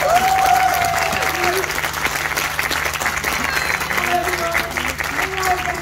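Steady audience applause from a live crowd greeting a performer on stage, loud and sustained, with a voice speaking over it.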